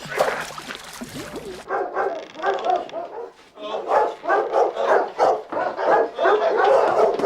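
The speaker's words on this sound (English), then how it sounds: "What are you gonna do with those dogs, Frankie?" A dog barks repeatedly in a quick, steady series of sharp yaps, close and loud, following a brief stretch of other noise at the start.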